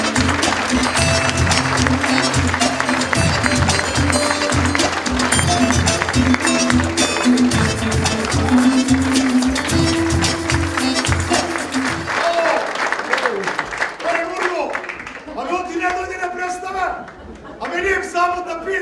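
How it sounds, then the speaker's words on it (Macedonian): A theatre audience applauds in sustained clapping that runs under loud music, then fades as people begin talking. "Слушај аплаузи"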